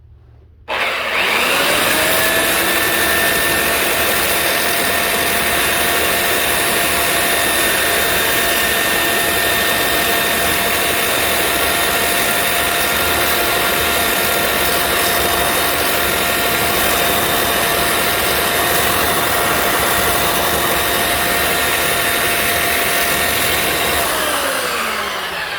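A power tool sands down the jagged edge of a cut glass piece, starting abruptly with a loud steady whine and grinding hiss that holds evenly for the full stretch, close and alone.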